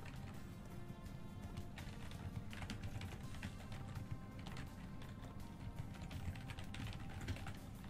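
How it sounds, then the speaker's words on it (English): Rapid keyboard typing, a quick irregular clatter of key presses, faint and close, continuing steadily with no voices. "Sorry that I'm typing. I was typing to the Discord"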